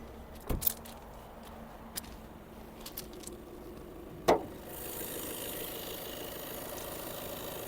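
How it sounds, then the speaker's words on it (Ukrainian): A 2020 Skoda Octavia A8 engine idles evenly in the background, a steady low rumble, with a few sharp clicks and knocks early on and a rising hiss near the end. "Двигун працює рівненько"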